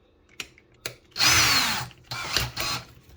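A DeWALT combi drill whirs in short bursts as its chuck is turned, a few quick clicks and then two longer spins, close up and with nothing else heard.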